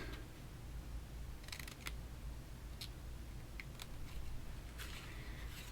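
Small craft scissors open and close in a few quick, faint snips while fussy cutting a stamped card image, scattered irregularly over a quiet room background.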